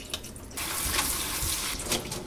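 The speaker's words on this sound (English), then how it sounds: "I'm gonna drain the water that came out from the radish." Water pours steadily out of salted radish as it is drained, a close, continuous splashing rush that swells after a brief trickle.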